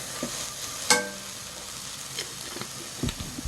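Dried anchovies stir-fry in a pan with a splash of cheongju, giving a continuous close sizzle broken by occasional clinks and scrapes of a utensil stirring, with no one talking.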